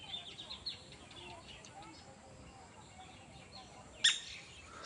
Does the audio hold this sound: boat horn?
no